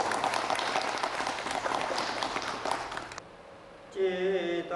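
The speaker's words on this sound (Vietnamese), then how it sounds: "chào tất cả Phật tử một tràng pháo tay thân mật." An audience of lay Buddhists at a nuns' Dharma gathering claps in a dense, steady round of applause that fades after about three seconds, then a voice begins chanting.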